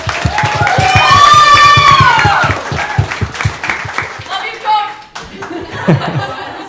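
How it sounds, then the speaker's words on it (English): Clapping, cheers and laughter from a girls' lacrosse team gathering honoring their coach, loud and sustained for about four seconds, then thinning into scattered claps and chatter as people talk. "Let's clap it up for Coach"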